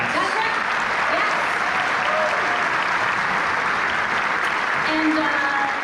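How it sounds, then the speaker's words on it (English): A large audience applauds steadily and loudly throughout at a ceremony honouring women of the RCAF in World War II, a dense, even wash of clapping with no break. "Thank you for that applause."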